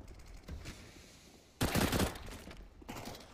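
Shots from a CZ pistol in CS:GO, a rapid loud cluster of gunfire midway followed by a quieter burst, with no talk.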